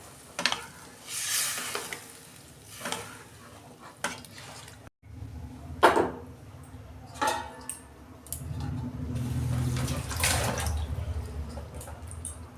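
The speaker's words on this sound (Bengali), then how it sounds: "এবার আমি জল দিয়ে দিচ্ছি।" Water is poured into a cooking pot of cauliflower, potato and eggplant curry, with faint clinks and stirring, then a soft, sustained hissing rush as the water hits the hot pan.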